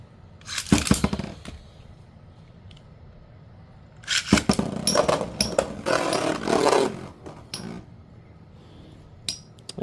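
Metal Fight Beyblade spinning tops clashing and grinding in a plastic stadium: a sharp burst of metallic rattling, then a longer stretch of scraping and clattering, ending with a final hit.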